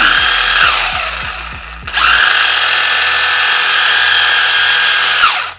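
A small electric RC car motor at full throttle whines loudly at high revs, a brief dip and then a sustained high-pitched whirr that cuts off at the end.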